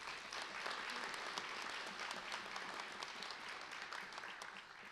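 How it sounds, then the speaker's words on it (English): An audience at a sheriff's office promotion and awards ceremony applauds retiring staff, a dense, even round of clapping from a large room that carries on steadily and tapers slightly. "Let's give them a round of applause."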